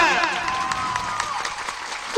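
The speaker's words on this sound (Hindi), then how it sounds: "जोरदार तालियां" Enthusiastic clapping from a devotional gathering at a Bhagavat Katha, a thick continuous burst of applause mixed with lingering musical tones and some cheering.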